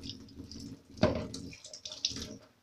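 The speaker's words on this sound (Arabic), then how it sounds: "هبدا بقى ان انا اقلب ميه عليها كده اهو، هقلب بس ميه" Water is poured onto a rug being washed, a soft splash and trickle with a sharper gush in the middle, fairly faint and close, with no talking.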